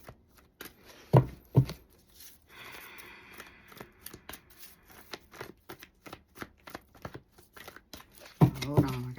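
Tarot cards shuffle by hand up close in a series of quick riffling and slapping bursts, with a couple of louder thumps and a voice speaking in between.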